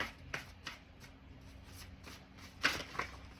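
Tarot cards being shuffled and drawn by hand, heard as soft papery riffles and flicks in short bursts, with a sharper snap near the end, close and fairly quiet with no talking.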